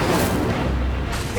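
A burst of Incendio fire spell magic in Hogwarts Legacy on PS5: a loud, sustained boomy rumble with crackling texture, filling the whole moment without any voices.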